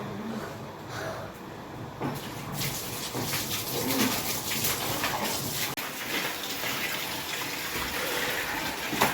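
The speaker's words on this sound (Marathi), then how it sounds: "पाणी टाकते याच्यावर." Water splashes and gushes steadily across a hard surface, a broad wet hiss with a few faint chirps in the background.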